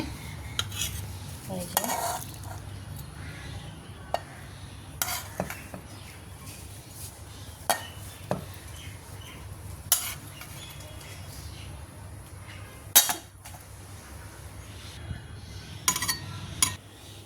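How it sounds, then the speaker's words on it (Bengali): Small river fish (kaikoli) bhuna curry is spooned out of a pan for serving, with quiet scraping and scattered metallic clinks of a spoon against the cookware over a soft background hiss. "আমি এখন আমার মাছগুলোকে সুন্দর করে পরিবেশনের জন্য ঢেলে নিচ্ছি"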